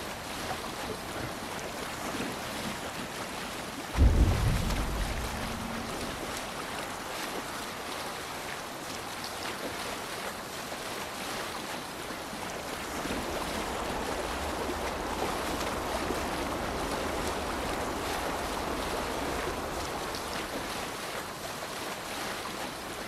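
A Viking longship sails through waves in Assassin's Creed Valhalla, with steady wind and rushing water filling the scene and a brief heavy thump early on, with no talk.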